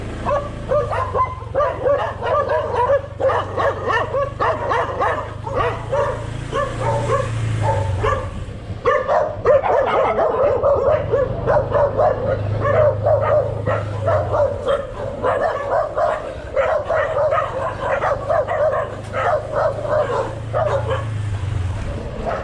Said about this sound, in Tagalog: Dito pa tayo napunta sa maraming aso.